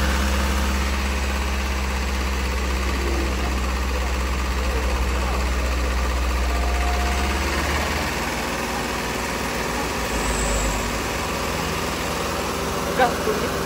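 A car engine runs on its own and will not shut off, holding a loud, steady, close-up drone with deep vibration throughout and no pause.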